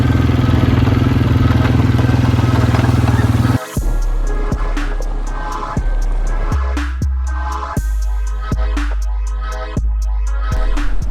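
A quad bike engine runs up close at a rental spot near Taghazout, Morocco, at first a loud steady rumble, then a cut followed by uneven putters and revving bursts.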